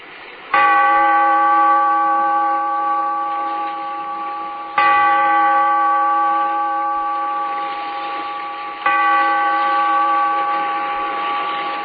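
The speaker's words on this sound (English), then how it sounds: "Bellkeeper, toll the bell, so that all may know we are gathered again in the Weird Circle." A church bell tolls three times in a radio drama, each deep ringing strike slowly fading before the next, evenly spaced about four seconds apart with no voices over it.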